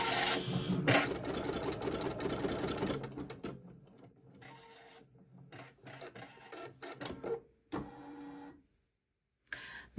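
Husqvarna Designer Epic 3 embroidery machine stitching out a design on hooped stabilizer, its rapid needle chatter running steadily and close, then breaking into shorter bursts with pauses before stopping into silence.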